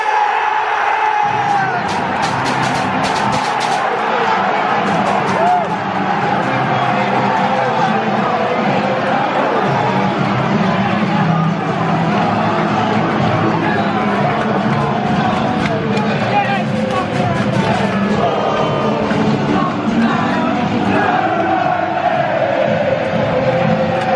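A football crowd cheers at a match after a cross into the box and a shot. The roar is dense and sustained, with whoops and hubbub lasting throughout at a steady high level.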